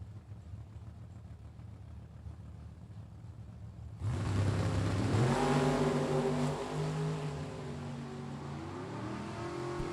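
Super Pro drag racing cars, an Oldsmobile and a Corvette, launch with a sudden loud roar after a distant idling rumble, the engines climbing through gear changes and holding a raw, sustained blast.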